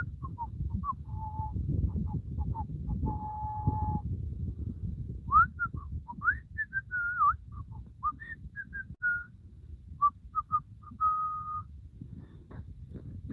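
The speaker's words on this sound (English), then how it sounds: "I would whistle that scarecrow song." A person whistles a simple tune outdoors, a string of clear held and sliding notes with short pauses between phrases, heard close over a rumbling background.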